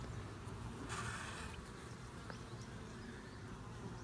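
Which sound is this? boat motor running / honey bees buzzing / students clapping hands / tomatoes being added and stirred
honey bees buzzing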